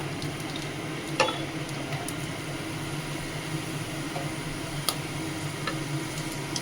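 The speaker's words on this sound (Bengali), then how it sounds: "এর মধ্যে আমি দিচ্ছি গোটা জিরে ফোড়ন।" Whole cumin seeds, a dried chili, cardamom and cinnamon sizzling in hot oil for a Bengali chicken kosha, a steady even hiss with a few sharp ticks and pops.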